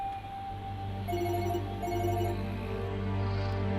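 A phone rings inside a stopped car in a Pakistani drama scene, electronic ringing tones pulsing in short repeated bursts over a low, steady hum.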